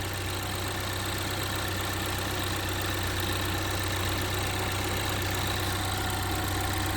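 A 2010–2017 Chevy Equinox 2.4 L engine, being checked after fuel line work, idles steadily and loudly up close with a constant low hum and mechanical whir, no voices present.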